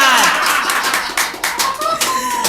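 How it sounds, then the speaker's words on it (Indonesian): Brief hand clapping from a studio audience on a talk show, a short burst of claps that thins out, mixed with voices and some background music tones. "Baru tepuk tangan."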